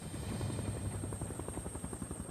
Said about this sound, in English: The first helicopters that flew over the site